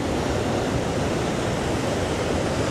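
A large river waterfall near Mysore sends a dense, steady roar of rushing water, loud and close, with no voices over it.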